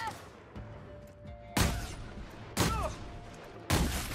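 Three sharp, booming shotgun blasts spaced about a second apart in The Outer Worlds, each loud and abrupt with a short decay, over a quiet background with faint tones.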